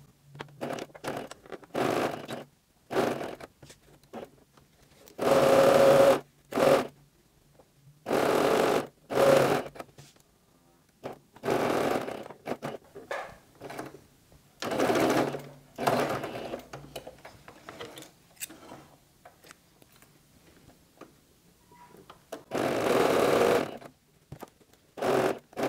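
Sewing machine stitching the seam of a 3D fabric face mask, running in repeated short whirring bursts separated by pauses, close and clear, with a brief spoken remark in between.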